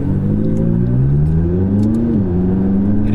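A McLaren 570S sports car engine drones loud and steady from inside the cabin while driving, its pitch rising gently and then easing back slightly. No voices.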